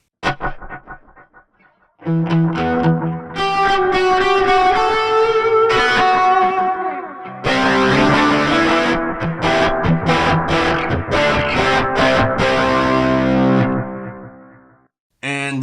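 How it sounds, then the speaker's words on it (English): A distorted electric guitar plays through a heavy Adriatic digital delay on a Line 6 Helix Stadium XL: chords and riffs ring out with trailing repeats, pausing briefly before resuming, then fading out. "We have the Adriatic delay, which is a very heavy DSP delay."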